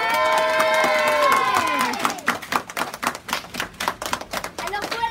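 Audience clapping at a go-kart event, a burst of uneven hand claps that breaks out after a brief tonal passage and continues choppy and close to the end.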